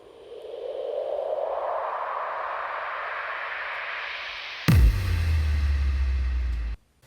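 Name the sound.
build-up riser into boom transition effect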